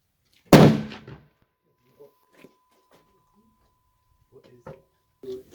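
A single sharp, loud shot from a 340 Weatherby rifle, a Mark V Deluxe, fired close by with a short decaying tail, followed by scattered quiet sounds and brief talk.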